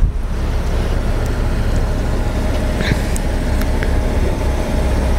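Strong wind buffets the microphone high on the alpine tundra of Rocky Mountain National Park, a steady loud roar filling the whole clip with no speech.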